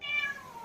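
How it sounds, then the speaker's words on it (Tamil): A cat gives a single drawn-out meow, fairly close and clear, with a slowly falling pitch and no talking over it. "பூனைகள் அட்ராசிட்டி தாங்க முடியல"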